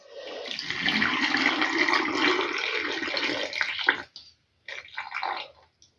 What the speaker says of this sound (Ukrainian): І зараз так кожну баночку залю простою водою холодною.